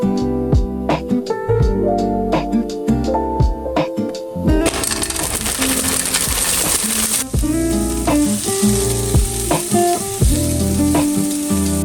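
Vegetables fry in hot oil in a pan, a continuous crackling sizzle with clinks and stirring knocks, loud and close, with a burst of stronger sizzling midway.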